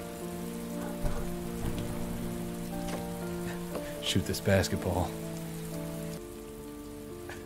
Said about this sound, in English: It's time for me to be sad in the rain.